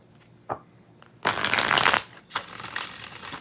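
A deck of tarot cards is riffled and shuffled in two brisk bursts, close up and crisp, with a soft tap beforehand and no talking.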